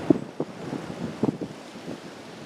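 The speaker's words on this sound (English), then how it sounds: "Chance of snow today. Windy." Gusty cold November wind in southern Ontario buffets the microphone in low rumbling bursts, steady and close, with no voices.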